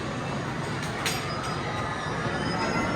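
Roller coaster train on Gatekeeper at Cedar Point, a steady loud rumble of wheels on track with faint metallic clinks, continuous and close throughout.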